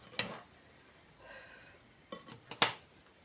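Spoons clink against a pot in a few sharp metallic taps and scrapes separated by quiet gaps, as two spoons gently stir a simple Banat-style home-cooked dish.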